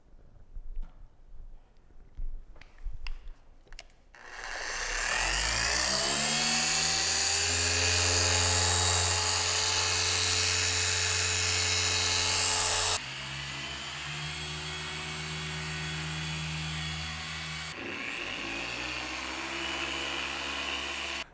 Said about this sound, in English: I've got a Rupes yellow polishing pad along with the Meguiar's Ultra Finishing Polish